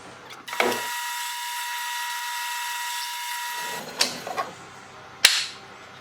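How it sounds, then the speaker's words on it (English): A power drill boring holes in black walnut wood in a workshop: a steady whirring drill run of about three seconds, then it spins down, followed by a few knocks and a sharp clack. "We'll just set it right back in the same hole and drill them out."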